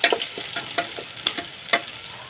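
Onions stirred and fried in a pan until golden brown for Ilongga-style chicken adobo: scraping stirs at an uneven rhythm over a steady close sizzle, with no talking.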